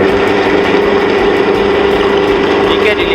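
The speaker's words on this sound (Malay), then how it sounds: "Mari kita hidupkan enjin." A car engine running at a steady idle, a continuous close drone with a constant hum throughout.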